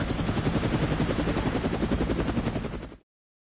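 Helicopter in the video game Reverse: 1999, a loud, close, continuous rotor chop with rapid rhythmic thumping that cuts off abruptly near the end.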